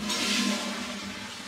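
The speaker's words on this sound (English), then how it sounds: "the toilet flush is just way too loud" A hotel room toilet flushes in a loud rushing whoosh that peaks early and then settles into a steady draining hiss, close and alone.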